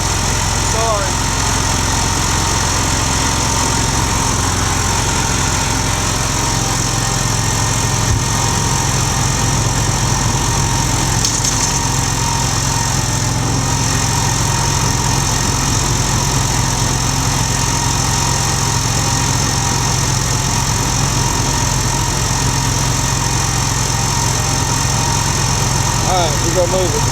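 A new riding lawn mower engine idles steadily and close by, a constant low rumble with a light vibrating buzz, while people talk over it now and then.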